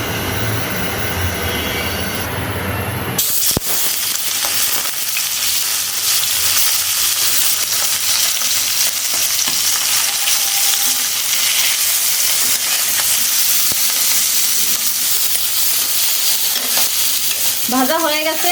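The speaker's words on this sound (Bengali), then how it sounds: "ভাজা হয়ে গেছে, তুলে নেব মাছগুলো।" Fish rubbed with salt and turmeric frying in hot mustard oil in a karahi, a loud dense crackling sizzle that carries on steadily for many seconds, close up with no speech.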